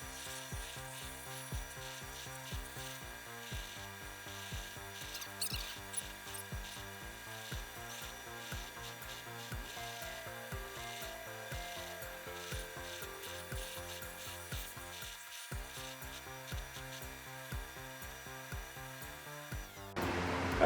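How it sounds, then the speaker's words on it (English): Sandpaper rubbing against a turned oak candlestick spinning on a lathe, a continuous close scratchy hiss over the steady rhythmic whir of the machine, with no talk. "I flip the piece around and run some sandpaper the opposite direction"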